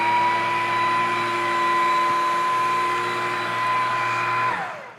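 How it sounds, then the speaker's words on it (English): An inexpensive vacuum cleaner running with a steady motor whine and broad airflow roar, loud and close, then winding down as it switches off at the end. "This is an inexpensive vacuum, but you would never know."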